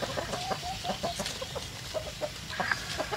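Chickens clucking in short repeated calls, several birds close by over a faint outdoor background, no one speaking.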